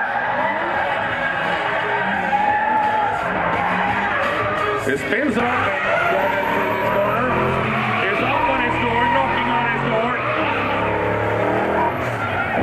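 Cars drift at night at Fritidsparken in Skien, Norway, their tires skidding and screeching continuously over revving engines amid a noisy crowd with people talking.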